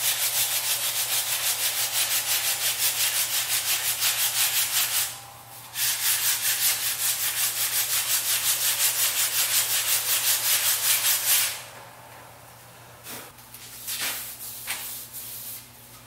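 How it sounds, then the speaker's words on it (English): Sandpaper rubs by hand along the edge of a scrap wood frame in a steady, rapid back-and-forth rasp. It is close and continuous, with a brief pause, then tapers into a few lighter strokes and handling noises. "Just use a little sandpaper."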